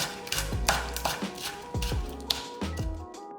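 A quarter stalk of Korean green onion sliced about half a centimetre thick with a knife: quick, close, rhythmic blade strokes thud onto a cutting board in a steady series.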